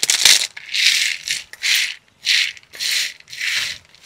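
Bursts of a mixer grinder whirring in short pulses, about six spins separated by brief pauses, loud and close with no talk.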